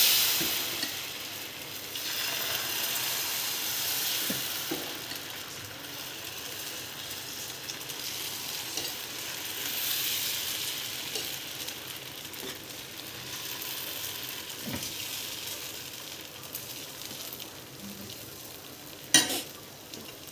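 Fasting-style dosa batter sizzles and fries on a hot dosa griddle with a steady crackling hiss, broken by occasional scraping and tapping of a spoon or spatula near the end.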